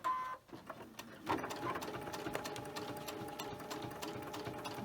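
Sewing machine running steadily as it stitches a small drawstring bag, a quick buzzing whir up close after a brief starting clunk, fairly quiet and continuous.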